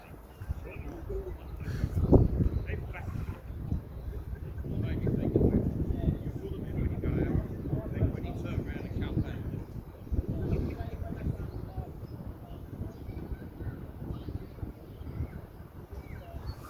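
Wind gusts outdoors into the microphone as a Guantanamera Cuban cigar burns, a low rumbling buffet that rises and falls under a man's speech.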